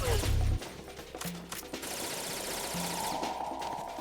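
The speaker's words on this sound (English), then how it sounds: "he keeps shooting the fucking wall" Gunfire striking a wall in a Metal Gear Solid game, a loud opening burst followed by scattered shots and impacts over a humming game soundscape with electronic tones.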